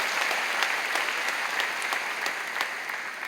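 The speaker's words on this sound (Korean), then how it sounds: "오늘도 귀한 말씀 전해주신 목사님에게 감사의 큰 박수를 좀 보내주시죠" A church congregation at an evening summer-retreat service in Daejeon claps for the pastor, a dense, steady wash of many hands at even strength throughout, with no voices standing out.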